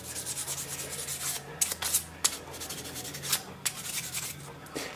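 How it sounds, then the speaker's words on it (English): Fine 500-grit sandpaper rasps along the blade of a Schrade Old Timer folding pocket knife in close, steady back-and-forth strokes, with a few sharper scrapes standing out. "I'm just going to lightly do the blade. Actually, this is 500 grit."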